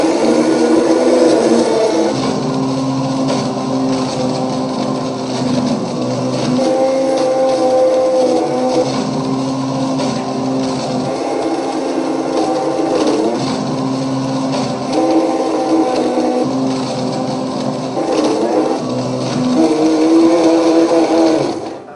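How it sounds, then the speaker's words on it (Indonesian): A Blendtec Total Blender grinds up an iPad, its motor whirring loudly and continuously with harsh rattling and churning as the pieces are shredded, the pitch shifting slightly throughout. "I knew I could get the iPad in the Blendtec Total Blender."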